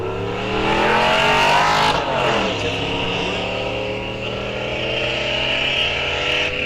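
An 1987 Camaro drag car is heard at a raceway. The engine drones loudly and rises in a sweeping rev around the launch, then holds a steady high-pitched roar.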